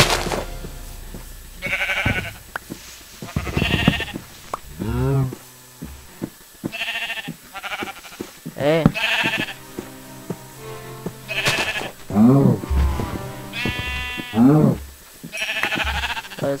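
Sheep in the video game Minecraft bleating repeatedly, a series of close, loud bleats in irregular succession over a faint background.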